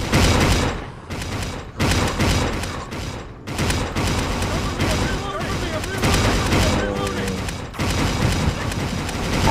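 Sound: gunfire in The Last Stand Dead Zone video game

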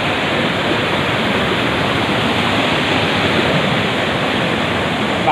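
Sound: stream flowing in winter

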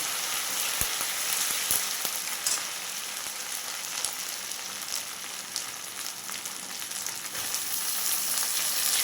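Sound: pumpkin greens added to hot oil, sizzling

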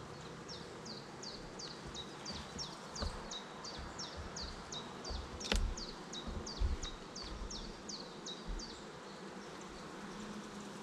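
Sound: honeybees at a hive frame

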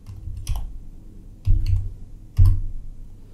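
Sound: typing on a computer keyboard

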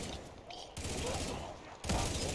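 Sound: M60 machine gun firing in Black Ops 3 Zombies video game

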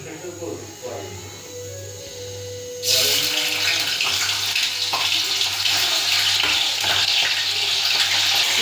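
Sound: paneer frying in hot oil in a pot

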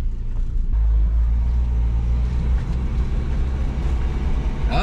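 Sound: 1977 Datsun 710 engine running while driving

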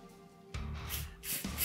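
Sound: spraying CRC cleaner onto a delidded CPU

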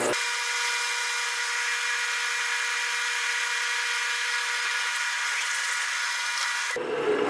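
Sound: honing a bushing with a spring pass

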